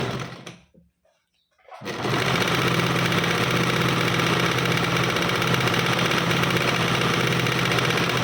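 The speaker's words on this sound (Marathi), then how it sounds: "टीप मारून घ्यायची अर्धा इंचावर." A sewing machine runs steadily while stitching a 3-inch fabric strip for a frill dress, starting after a brief pause and then holding a loud, continuous mechanical whir to the end.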